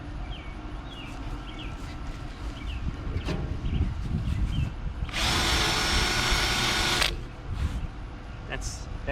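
A new welder runs on a trailer, its loud, harsh crackling hiss bursting out for about two seconds among clanks, shop noise and people talking.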